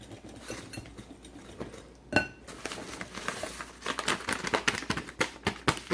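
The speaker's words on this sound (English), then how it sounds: "I'm going to just keep on mixing it as it changes color and texture." A utensil stirring cake mix into orange cake batter in a bowl gives steady close scraping and clinking against the bowl, with a sharp clank partway through and busier stirring toward the end.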